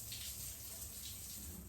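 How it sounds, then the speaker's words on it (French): A tap runs steadily onto wet hair during a shampoo wash, making a soft, even hiss of splashing water, quiet and close with no speech. "Donc je vaporise directement au robinet."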